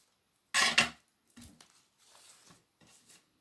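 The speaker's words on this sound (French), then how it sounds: "Je vais couper un peu les bords là" Scissors trimming the edges of a paper envelope craft, one loud crisp snip followed by a few softer, fainter cuts with quiet gaps between.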